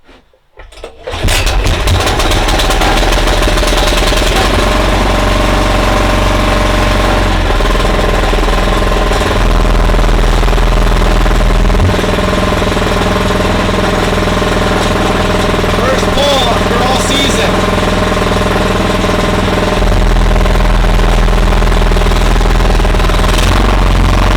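A small snowblower engine starts with a brief sputter, then runs loud and continuous close by, its rough, rattling idle shifting slightly as the throttle is adjusted.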